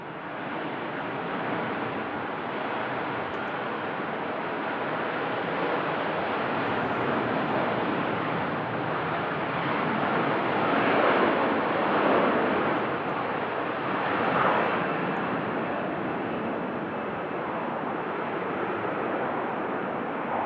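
Jet engines of an airliner at Manchester Airport roar in a broad, steady rush that swells twice, heard from a distance with no voices.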